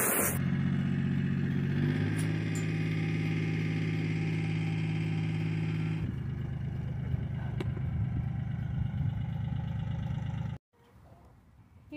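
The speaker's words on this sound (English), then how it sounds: "He's working on his tractor" A tractor engine running, a steady close engine drone with a shift in pitch partway through, then cutting out abruptly near the end, leaving faint background noise.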